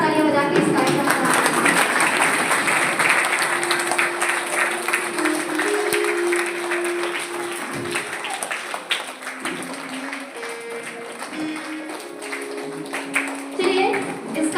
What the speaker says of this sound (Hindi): आप लोग खड़े हो जाएं और जोरदार तालियां बजा के इस कार्यक्रम को